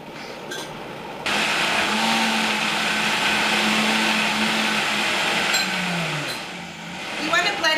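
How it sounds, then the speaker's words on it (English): A blender whirs loud and close as it purees a raw taco shell mixture with onion and water. The motor kicks in after a second, runs steadily, then winds down, and a voice speaks around it. "And then we're just going to blend it up"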